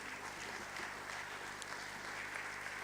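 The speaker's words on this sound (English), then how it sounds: "Please keep the applause coming." Faint, steady applause from an audience at a Nigerian economic outlook event, even and continuous, heard at a distance with no talk on top.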